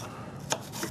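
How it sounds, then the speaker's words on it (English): A knife chops onion on a board, a few quick distinct cuts in a short burst, close and fairly quiet against a soft room background. "We just chop those up a few fine."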